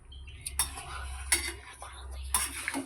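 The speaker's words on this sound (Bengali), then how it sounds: "এই যে কষাচ্ছি।" A metal spatula scrapes and clinks against a wok while chicken curry is stirred and sautéed, sharp clattering strokes recurring every second or so over a low sizzling hum.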